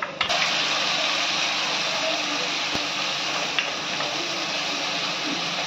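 Red chilli paste sizzles in a pan with onions and coriander powder for dry red chilli chicken, a steady close hiss of frying that runs continuously with a couple of brief clinks.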